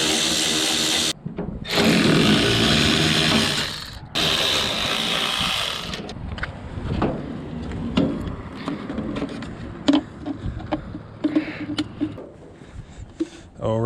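A power drill backs out headlight screws on a Danger Ranger, buzzing in loud sustained bursts early on, followed by quieter clicks and handling noises with a voice talking between them.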